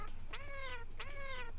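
A cat in the video game Super Amazing Wagon Adventure gives two clear, drawn-out meows in quick succession over a low background hum, with no talking.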